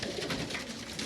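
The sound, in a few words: pigeons cooing in loft while feeding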